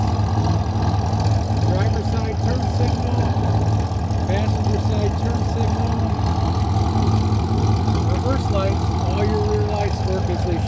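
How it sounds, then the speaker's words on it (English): A 2009 Chevrolet Corvette with a Vortech-supercharged 6.2L LS3 V8 idles through its exhaust, a steady, deep, lumpy rumble that holds close and loud, with a voice faintly underneath. "What a great sound coming out of the back of this Corvette."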